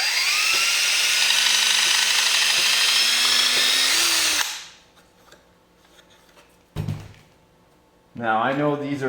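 A power drill bores small holes during a radio-controlled Toyota truck build. Its close, loud whine rises slightly in pitch for several seconds, then stops abruptly; after a quiet gap, a voice starts speaking.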